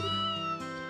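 A cat in the Trails in the Sky video game gives one short, clear, tonal meow that bends upward, close and loud with nothing else around it.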